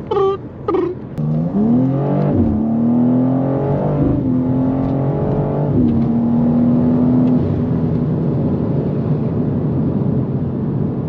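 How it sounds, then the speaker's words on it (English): A BMW M2 (G87) sports car engine revs and accelerates up through gears, the pitch rising and dropping at each shift, then settling into a steady loud drone from inside the car. "you guys can hear what this car actually drives like"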